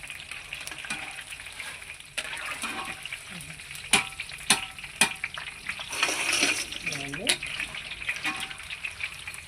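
Ribbon pakodi made from rice-flour dough fries in hot oil for a festival snack, giving a continuous bubbling sizzle with scattered sharp pops and clinks of a utensil, close up and fairly quiet, with no talking.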